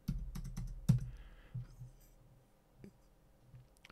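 Sparse keystrokes on a computer keyboard with a faulty minus key, heard during FreeCAD drawing work: a handful of separate clicks and short bursts, close and fairly quiet, then fading to occasional taps.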